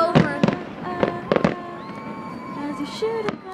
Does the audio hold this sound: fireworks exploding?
yes